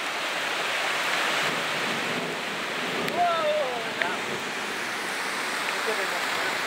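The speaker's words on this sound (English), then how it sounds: "now we're watching the water come down this wash all the way down to Face Canyon" Flash flood water rushing down a desert wash toward Face Canyon near Lake Powell, a steady broad roar of churning water that holds constant throughout, with a few faint brief sounds surfacing above it.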